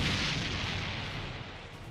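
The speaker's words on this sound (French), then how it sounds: "le soldat Horn, le soldat avec le signe de la Death Watch sur le front, s'élance une grenade à la main et la jette sur le golem." A hand grenade bursts against a stone golem in a Star Wars battle, a dense, rumbling blast that fills the whole short moment with no pause or separate impacts.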